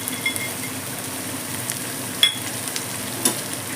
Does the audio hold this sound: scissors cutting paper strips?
no